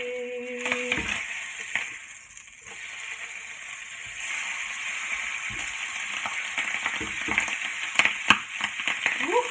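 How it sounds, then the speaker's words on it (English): Bacon frying on a kitchen stove gives a steady, bright hiss with crackles and small pops, close and continuous, rising slightly toward the end, with a short tonal beep near the start. "Bacon cook up in the kitchen"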